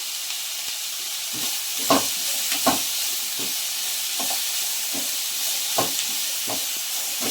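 Onions frying for a potato curry over medium heat, a steady close sizzle and hiss with occasional soft stirring scrapes and clicks, no talk.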